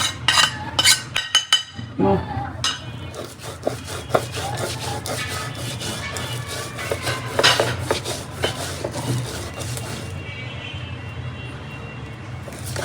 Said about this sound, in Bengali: এখন মরিচ বেটে ফেলছে, কালা শুটকি।